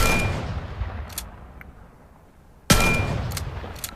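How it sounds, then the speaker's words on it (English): Gunshots ring out in the VR shooter Vail, a sharp loud blast decaying into a long ringing tail, a couple of fainter hits, then a second powerful blast, close and alone. "if you shoot from up here, look how much bullets it has"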